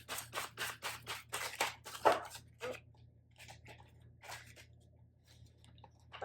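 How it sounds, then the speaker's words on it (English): Tarot cards are reshuffled up close, producing a series of soft, rapid papery riffling bursts that slow into a few scattered shuffles, with no talking. "Bunch of cards just flew out, so I'm just gonna reshuffle"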